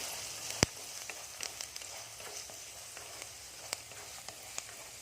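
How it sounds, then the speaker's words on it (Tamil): Snake gourd seeds roast in a pan for chutney, giving a soft, continuous dry sizzle with scattered light crackles and one sharp tick, close and fairly quiet, no talking. "புடலங்காய் விதை நல்லா பச்சை வாசம் போக வணங்கணும்"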